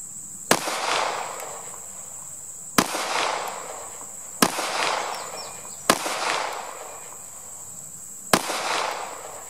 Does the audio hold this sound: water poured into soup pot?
no